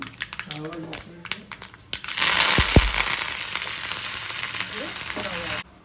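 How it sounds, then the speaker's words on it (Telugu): Dried red chillies drop into hot oil with cumin and crackle into a loud, steady sizzle that lasts to the end, heard close up; before that there are a few kitchen clinks and some quiet talking. "రెండు ఎండుమిరపకాయలు వేస్తే అవి వేయించుకోవాలి"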